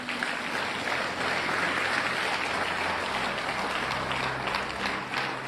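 Sustained, dense applause from a congregation at a church conference in Abidjan, a steady, loud wash of clapping that holds evenly for several seconds with no speech over it.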